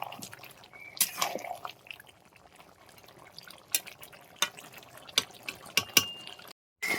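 Malabar spinach curry boiling in a pot: soft irregular bubbling pops and plops, close and fairly quiet, with sparse sharper bursts against a low simmering background.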